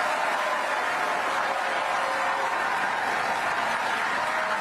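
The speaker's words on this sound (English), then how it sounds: "This is the where they said the crowd chants "lock him up."" Recorded rally crowd chanting "lock him up", a dense, loud roar of many voices with no clear words, heard steadily throughout.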